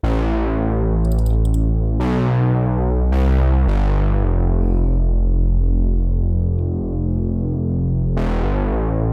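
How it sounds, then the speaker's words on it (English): Deep synth bass line from the Power Bass preset in the Dawn Bank: a few long, heavy sustained notes with sharp attacks, each ringing and decaying before the next, with faint high ticks in the background. "Joe laid down a bass line. It's from the Power Bass,"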